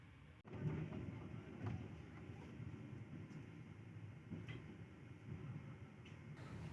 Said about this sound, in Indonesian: Saat ini kereta api Jayabaya berjalan langsung di stasiun Wonokromo